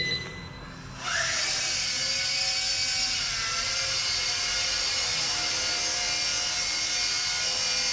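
A Yuxiang F03 four-channel RC helicopter lifts off indoors with a one-key takeoff: after a second of quiet, a steady high-pitched motor and rotor whine starts and holds evenly, close and alone.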